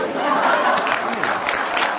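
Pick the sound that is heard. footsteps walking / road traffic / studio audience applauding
studio audience applauding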